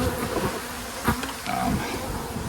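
Honey bees hum in a dense, steady buzz at an opened hive, close and continuous, with a few sharper passes of individual bees.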